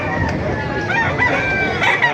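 Roosters crow at a busy chicken market in Bocaue, Bulacan, their loud, drawn-out calls sounding close and overlapping against a background of crowd noise.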